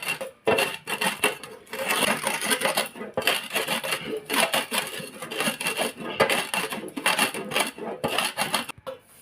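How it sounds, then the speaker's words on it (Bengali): Dry-roasted red chillies and cumin ground by hand on a stone, giving a steady, close, loud rhythmic scraping and rubbing, stroke after stroke, with no talk. "শুকনো লঙ্কা আর হচ্ছে এখানে জিরা একটু মানে ভেজে নিয়েছি শুকনো খোলার মধ্যে। তো এখন আমি এগুলো বাটবো।"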